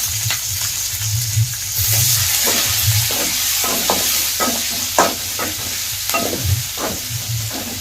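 Onions sizzle in a hot pan for an eggplant and tomato dry curry, with a steady frying hiss and repeated scraping taps of a spoon stirring them, close up and without talk.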